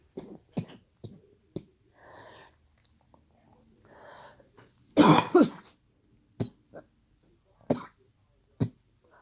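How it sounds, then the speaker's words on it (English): A person with a cold coughs several times in short, harsh bursts, including one long rough fit of hacking in the middle, with brief bits of speech between the coughs. "Excuse the coughing, I'm still not feeling well."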